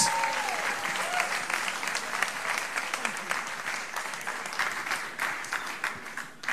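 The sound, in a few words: audience applause welcoming speaker Paul Mason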